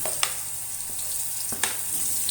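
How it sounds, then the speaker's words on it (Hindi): Sweet potato pieces frying in hot ghee with cardamom seeds in a kadhai for halwa, a close, continuous sizzle with a few soft stirring knocks; no speech. "ये शकरकंदी घी के अंदर हमने इन्हें तो भूनना है"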